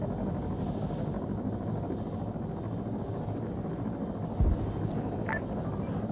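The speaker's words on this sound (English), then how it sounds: "this chopper's got a really sensitive hitbox. Yeah, I'm on the chopper." A helicopter flies in a military-style video game, producing a steady, continuous rotor rumble and drone with one brief low thump partway through and no talking.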